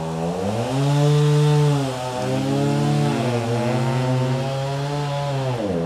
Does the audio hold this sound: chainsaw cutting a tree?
yes